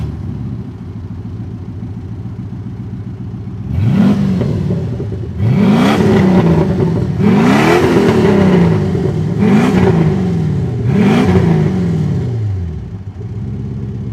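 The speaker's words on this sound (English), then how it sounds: "just listen to it. I mean, it does not sound like a Porsche. It sounds like a freaking Chevy." A 1982 Porsche 928 V8 idles with a deep rumble, then gets revved five times in a row, each blip rising and falling loudly and close, before settling back to idle.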